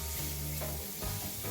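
Garlic, ginger, onions, peppers and leek fry in a hot pan for steamed fish, giving a steady close sizzle and crackle with soft stirring shifts and no talk.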